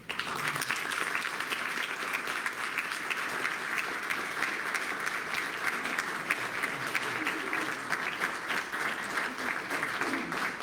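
Sustained audience applause fills a room at a community awards presentation during the Oberlin Heritage Center annual meeting, a dense, even patter of many hands holding steady for about ten seconds.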